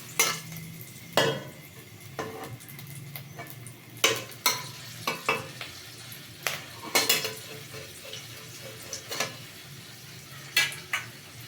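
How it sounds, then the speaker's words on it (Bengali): A spice tempering, phoron with green chili, frying hard in hot oil for a stripped catfish (tangra) recipe: a constant crackling sizzle broken by repeated sharp scrapes and taps of a spoon against the pan. "ফোড়নটাকে আমি খুব ভালো করে ভেজে নেব।"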